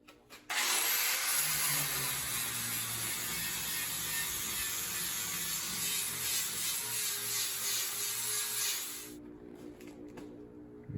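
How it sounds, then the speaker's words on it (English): Two metal flanges clamped tightly in a vise are ground together with a power grinder, a loud continuous high-pitched whine with rough scraping that runs for about eight seconds, then winds down and stops. "Then I'm gonna clamp them together and grind them together so that the 2 match."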